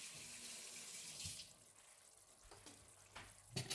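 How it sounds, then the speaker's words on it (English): A kitchen tap runs as hands are washed under it: continuous splashing water, with hiss and brief clinks and splashes near the end, fairly quiet. "Wash my hand."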